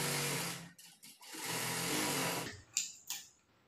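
Sewing machine stitching a quarter-inch seam in cloth: a close, whirring motor hum in two short runs separated by a brief pause, followed by a few light mechanical clicks.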